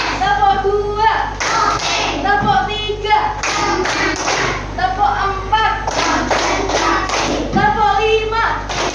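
Third-grade children clap through a rhythmic classroom routine, short bursts of hand claps alternating with group chanting voices in a repeating pattern.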